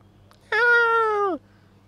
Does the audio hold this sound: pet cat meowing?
yes